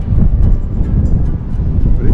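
Gusty, frosty wind on the docks of Ketchikan, Alaska buffets the microphone with a loud, low, continuous rumble and no other clear sounds.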